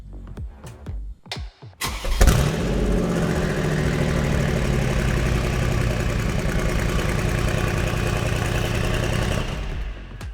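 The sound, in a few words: combined ML63 engine in 6x6 G63 firing up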